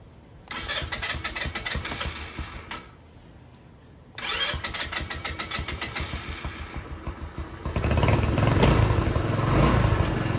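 A Rusi Passion SC125 motorcycle that had been refusing to start cranks on its electric starter, cuts out briefly, then cranks again and catches into a steady, loud, close running engine.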